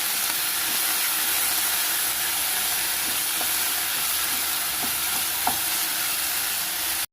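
Potato pieces frying in a pan over a medium flame, producing an even, continuous sizzle with a few faint pops and no voices.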